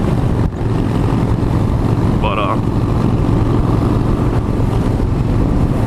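A loud, steady engine drone fills the whole stretch, a motorcycle exhaust rumbling close by, with a brief word spoken over it.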